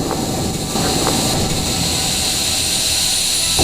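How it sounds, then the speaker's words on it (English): A missile launch, heard as a loud, steady roaring rush of engine exhaust that holds at an even level throughout, close and dense with no voices. "Missile away."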